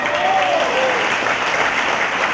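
Dense audience applause fills a crowd at an immigration executive action event, a steady loud wash of clapping that holds for a couple of seconds without a break.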